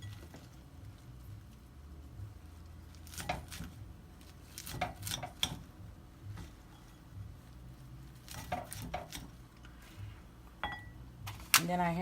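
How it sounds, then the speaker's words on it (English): A knife chops on a cutting board in scattered bursts of quick, close taps separated by pauses, fairly quiet and mixed with faint kitchen clatter. "I'm going to go ahead and pick those out and continue to chop."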